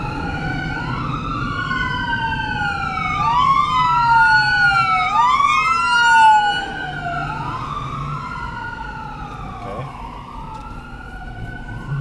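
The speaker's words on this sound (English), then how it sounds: "I think this was an ambulance." A wailing ambulance siren sweeps up and down repeatedly, loud and close at first, then fading slightly as it moves away, with traffic rumble underneath.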